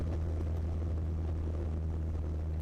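A Zenith CH200 light aircraft flies at top speed around 2600 RPM on a turbulent day, its steady propeller and engine drone heard from inside the cabin as a continuous low hum.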